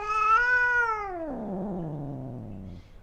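A male cat gives one long, disgruntled meow. It starts high and bright, then slides down into a lower, grumbling drawl over about three seconds, fairly close and alone.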